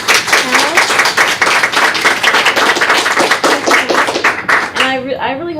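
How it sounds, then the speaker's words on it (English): Audience applause for panelists at an environmental justice symposium, steady dense clapping that lasts several seconds, with voices talking under it and a speaker's voice emerging at the end. "If you give a round of applause for our panelists."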